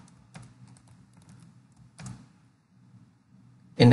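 Keys tap on a Windows PC computer keyboard in a quiet room. Short, scattered clusters of soft clicks come close by, with a pause, then a louder final burst.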